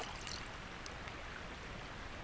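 Stone bowl dipped and filled with river water in The Last Plague: Blight, a soft steady trickling and flowing wash that stays quiet and even throughout, with no voices.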